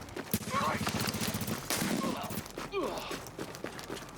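Gunfire in the video game The Division rattles in quick bursts alongside a shotgun, with dense rapid reports and softer in-game sounds mixed under a player's talk.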